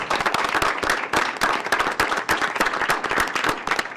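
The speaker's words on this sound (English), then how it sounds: "So round of applause for this great committee." A school board meeting audience gives a committee a round of applause, sharp, fairly close clapping in a quick irregular rhythm, steady and loud for the whole stretch.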